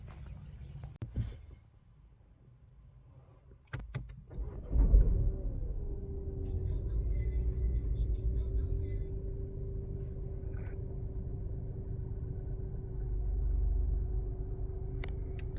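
A 2020 Mini Cooper with a 1.5-litre turbo engine pulls away and drives, a low, fairly quiet engine hum and cabin rumble settling in after a few soft clicks and thumps, with no talk heard.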